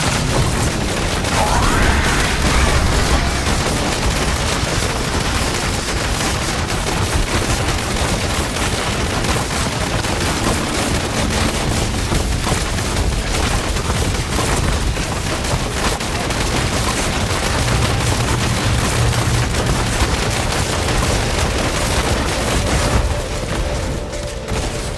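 Dense, continuous barrage of rapid ranged hits and impacts fills the action as a Demon Hunter spreads multi-shot attacks onto a training dummy in Diablo Immortal, loud and relentless throughout.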